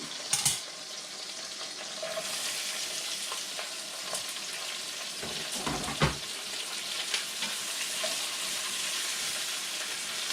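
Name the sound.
roughly chopped onions frying in a pot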